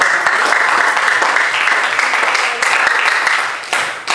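A high school class applauds a student group after their presentation, steady dense clapping filling the room for the whole stretch with no talk over it.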